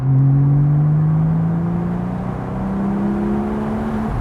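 Porsche 718 Spyder with a Cargraphic x-pipe race exhaust pulling at full throttle in third gear from low revs, a loud, close, steadily rising engine note that holds strong throughout with no talking.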